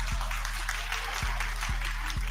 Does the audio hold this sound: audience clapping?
yes